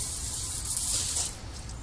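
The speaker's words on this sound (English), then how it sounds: "You grab your brake cleaner and spray the living crap out of it." A steady aerosol spray of brake cleaner onto a Pontiac Grand Prix rear brake rotor hisses close up for a couple of seconds, a continuous airy rush with no other sounds.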